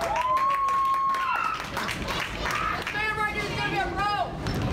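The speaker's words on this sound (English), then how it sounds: "And the crowd goes wild." A crowd at a bowling tournament cheers and applauds, a busy wash of clapping and shouting under an excited commentator's voice.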